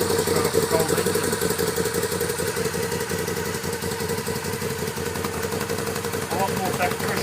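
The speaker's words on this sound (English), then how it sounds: "that's idling pretty nicely, straight off the cold engine" A Moto Guzzi V7 Racer motorcycle engine idles from a cold start, its steady, even mechanical rumble running close and continuously through the whole stretch.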